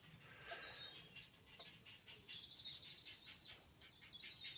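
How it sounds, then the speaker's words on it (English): High, thin chirps and twitters of birds on a nest overlap continuously, faint and somewhat distant, with soft background noise and no talking. "I think it's birds on the nest"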